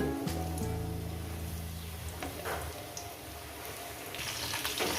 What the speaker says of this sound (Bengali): আলুগুলো আমি চার পাঁচ মিনিট ধরে ভেজে নেব